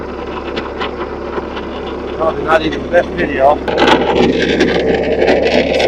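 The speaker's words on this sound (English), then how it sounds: "the loud rattling you're hearing is the drive motor for that fan" Fan drive motor on a Bobcat T190 skid steer, broken so the fan shaft no longer turns with the engine running, rattles loudly and steadily alongside a running engine, with someone talking over it nearby.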